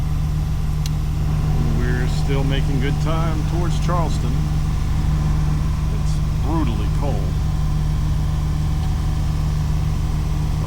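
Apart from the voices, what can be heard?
sailboat engine running at night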